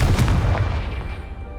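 Confringo blasting spell detonating against a piled barricade in Hogwarts Legacy, a single deep booming explosion that quickly fades into a rumbling tail.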